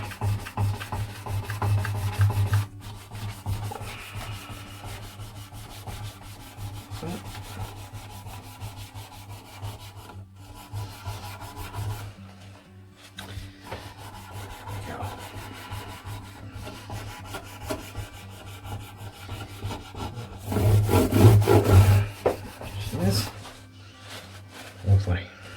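Lemon oil is rubbed by hand into the wood of a 1970s acoustic guitar, giving a continuous soft close-up friction and rubbing sound with a louder burst of scrubbing near the end.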